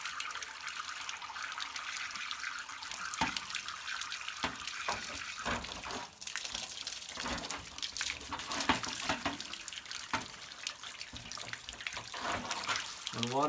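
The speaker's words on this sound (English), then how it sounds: "we are draining a really bad water heater" Water drains from a badly scaled, calcium-clogged residential water heater tank, a steady rushing splash with gurgling surges that runs the whole time at moderate level.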